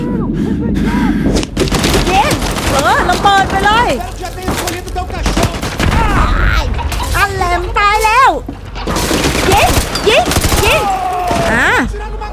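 Rapid bursts of Call of Duty Modern Warfare 2 Remastered gunfire and explosions go off repeatedly while people talk and shout excitedly over them.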